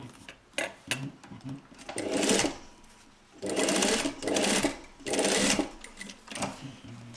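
Sewing machine stitching a short one-centimetre seam in fabric for a basque corset kit, running in three close, steady whirring bursts separated by brief pauses.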